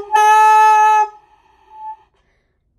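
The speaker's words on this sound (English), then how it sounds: "Just make sure that your lip is tucked under the reed so that you don't make a sound like this." A saxophone mouthpiece blown without the lip tucked under the reed gives a harsh, buzzy squeal lasting about a second, followed by a fainter tail, alone with no talking.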